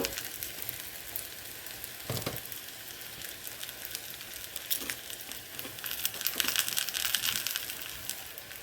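A crunchwrap cooks in a pan with steady close sizzling and frying crackle, occasional louder pops and a brief scrape, swelling slightly toward the end.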